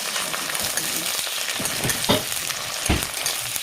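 Jackfruit pieces frying in a pan, an Assamese-style jackfruit dish made without onion or garlic: a steady crackling sizzle with a few louder bursts and spatula scrapes as the pieces are turned, no talking.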